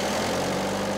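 A unique, long-vanished old engine, repaired in Maine-et-Loire, runs steadily with a dense, continuous mechanical drone and low rumble, close and loud, with no voices.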